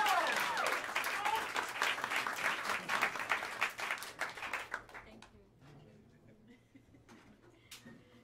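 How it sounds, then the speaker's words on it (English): Audience applause at Smalls, a live jazz club, for a vibraphonist's quintet: dense clapping and some cheers swell loudly at first, then thin out and fade to scattered claps, with a voice speaking over the start. "A big round of applause for the great Yuhan Su."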